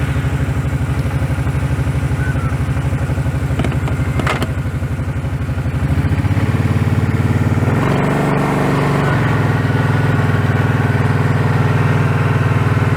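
A 2024 Kawasaki Brute Force 750 LE ATV engine runs loud and close, a steady lumpy idle that rises as the throttle opens midway, then holds at a higher, rougher pitch.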